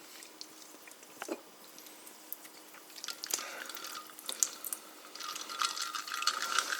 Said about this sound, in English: go ahead, fill in the water